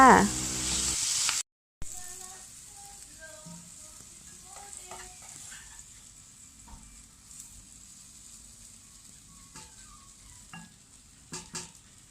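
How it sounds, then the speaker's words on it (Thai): Bai liang leaves stir-fried with egg in a pan, a steady soft sizzle with light scraping stirs scattered throughout, after a brief louder burst at the start. "จากนั้นเราก็ผัดให้เข้ากันนะคะ"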